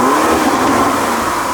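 Ferrari SF90 Stradale engine held at a steady, loud rev, a dense continuous roar with no break and no voices over it.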